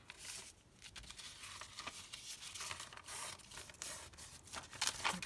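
Green doily paper cut with scissors, heard as soft, quiet, close snips mixed with crisp paper rustling and crinkling over a few seconds.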